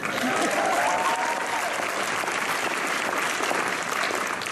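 A school honors convocation audience applauds and cheers in a steady, dense roar of clapping that fills the hall without a break.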